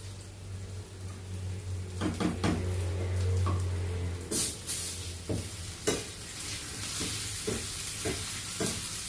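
Curry leaves and dried red chillies drop into hot oil in a pan for a dal and mango curry, a steady close sizzle joined by several sharp stirring scrapes and bursts of crackling.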